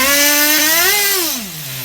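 A nitro HPI RS4 Nitro F150 RC car engine on the bench is given a short rev, a loud buzzing whine that climbs in pitch, then drops back toward idle, heard alone.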